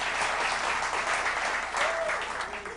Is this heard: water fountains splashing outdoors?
no